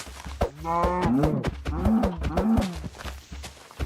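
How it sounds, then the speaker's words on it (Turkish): Video-game cows moo several times in quick succession, drawn-out and fairly close, with short clicks between calls and no speech. "Mesela şu inekleri keserek başlayalım."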